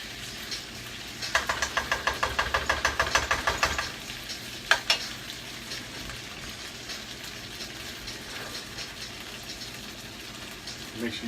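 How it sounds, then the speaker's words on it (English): White rice frying in butter on a hibachi-style griddle, a steady sizzle with a run of rhythmic scraping stirs and a sharp clank, heard fairly close and low in level. "Alright, we are frying that rice."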